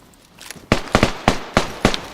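Gunfire during a firefight in the survival video game DayZ: five or six loud, sharp shots cracking at uneven intervals over about a second and a half, following a quiet start.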